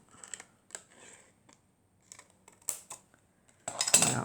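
Scissors snip through a clear plastic chocolate box in a few short, crisp cuts separated by pauses, ending in a louder crinkling rustle of the plastic, close up with no talking.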